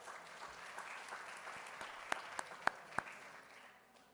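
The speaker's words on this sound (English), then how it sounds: "so give yourselves a big round of applause" Faint, sparse clapping at a police activities league annual awards gala, a few sharper claps standing out near the middle before the sound thins and fades.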